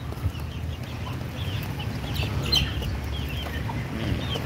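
Hens cluck and chatter intermittently at a home zoo, soft repeated calls over a low background murmur.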